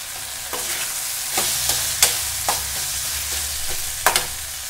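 Drumstick leaf rice ingredients sauté in a pan with salt and asafoetida, a constant sizzle broken by several sharp spatula scrapes and taps against the metal.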